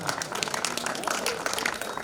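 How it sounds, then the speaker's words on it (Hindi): An audience applauding at a religious sermon, a short burst of dense, scattered hand claps from a gathered crowd, with a voice speaking over it. "आशीष का सुन ताली बजा दी तुमने"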